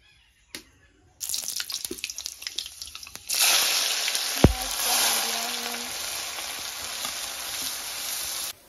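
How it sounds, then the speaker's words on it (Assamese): Chopped onion and panch phoron five-spice hit hot oil in a home kitchen, setting off a loud, steady sizzle with a brief clatter just before it. The hiss rises sharply and stays bright and continuous through to the end. "মায়ে পিয়াজ আৰু পাঁচফোৰণ বহাই দিলে"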